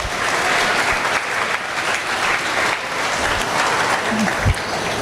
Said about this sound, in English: Let's give these four individuals a big round of applause.